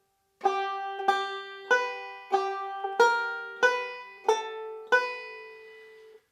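Eight slow, evenly spaced plucked banjo notes from a Cumberland Gap roll in Sally Goodin position ring out one after another, each decaying before the next, played softly and alone.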